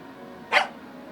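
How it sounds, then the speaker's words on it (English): A single short dog bark from the video game Tiny Bunny, one brief clear burst in the middle over a quiet background hum. "the dog barked in agreement and stopped messing with the mitten"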